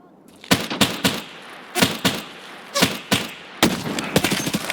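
Gunfire in Escape from Tarkov: loud, close shots in short bursts and single cracks, roughly eight or more reports spaced unevenly, ending in a rapid volley, with no talk between them.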